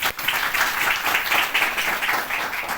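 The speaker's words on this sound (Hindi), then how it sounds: "एक बार जोरदार तालियां" A crowd at a special session breaks into loud, continuous clapping, dense and close, holding steady for a few seconds.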